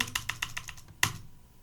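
Several quick keystrokes on a computer keyboard while entering data in TallyPrime accounting software, a light rhythmic clatter ending in one sharper, louder press of the Enter key, close and clear with no voices.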